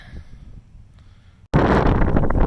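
Wind gusts across a dusty dirt road on the Pony Express Trail, a low rumble that suddenly swells into loud, roaring buffeting against the microphone.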